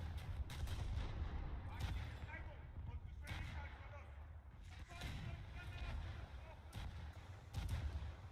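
Naval guns fire in War Thunder ship combat, heavy booming shots repeating in irregular bursts over a low rumbling background, with someone talking quietly between the blasts.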